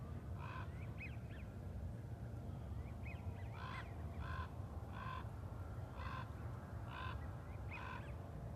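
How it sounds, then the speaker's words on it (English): A bird calls outdoors near a swimming hole, repeating a faint, evenly spaced series of honking caws over steady wind or water noise. "Beau, that's a bird right there."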